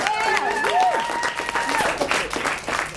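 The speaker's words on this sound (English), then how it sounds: "Can we give a round of applause to Sandra with me?" Crowd at an award night gives a round of applause, steady clapping mixed with whoops and voices throughout.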